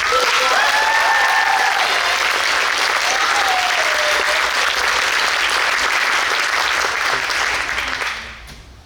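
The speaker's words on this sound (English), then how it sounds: "Can everyone please give one more big round of applause for Eesha?" An audience at a classical Indian dance debut performance bursts into loud, dense, sustained applause for the dancer, holding steady before tapering off at the close.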